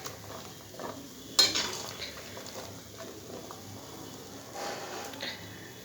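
Soybeans being stirred in a cooking pot, giving soft scraping and clinking of a utensil against the pot with a sharper knock near the start, close and fairly quiet with faint sizzling beneath.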